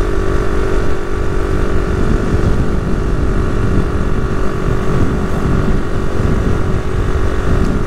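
Small Honda Navi motorbike running flat out at top speed, a loud, steady engine drone with wind rush, close and continuous without a break.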